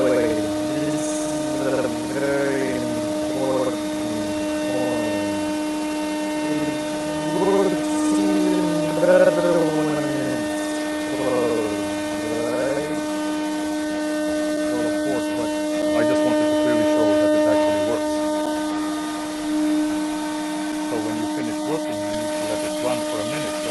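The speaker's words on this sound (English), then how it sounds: "It might just keep up while the exhaust is running." A NORDBERG NS9 front-loading sandblasting cabinet runs with its exhaust on, giving a steady mechanical hum with tonal buzz that holds throughout under a voice describing it.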